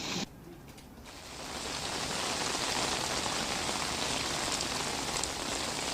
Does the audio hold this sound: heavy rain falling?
yes